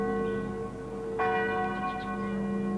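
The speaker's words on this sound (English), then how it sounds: "The bell that rings today at St. Michael's and All Angels in Christchurch" The settlers' church bell now hanging at St. Michael's and All Angels in Christchurch rings alone, its long humming tone sustained before a fresh, louder strike midway that rings on and slowly fades.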